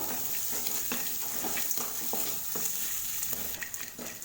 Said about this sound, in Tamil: இஞ்சி சேர்த்து நல்லா வதக்கியாச்சு